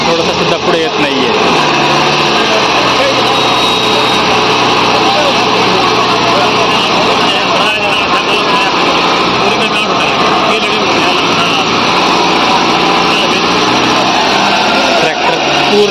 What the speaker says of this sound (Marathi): MF 855 बॉस ट्रॅक्टर हा ट्रेलरचा लोड यशस्वीरित्या घेऊन जात आहे. पूर्ण स्लिप मारत आहेत.